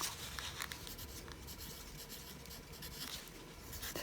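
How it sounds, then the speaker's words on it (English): Spelling words are written by hand, the pencil or pen scratching and rubbing faintly and close in short strokes over a quiet background, with no one speaking. "So let's write our spelling words."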